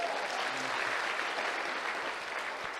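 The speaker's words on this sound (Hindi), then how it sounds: "तो जोरदार ताली हो जाए इनके लिए।" Enthusiastic applause from an audience at a network marketing event, honouring a speaker's diamond achievement: dense, continuous clapping filling the room at steady loudness throughout, with no voices on top.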